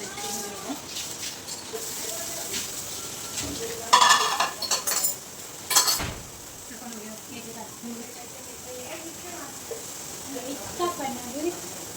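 Egg crumbled in a pan with a utensil, scraping and stirring over a soft sizzle, with a couple of sharper clinks against the pan and a voice talking throughout.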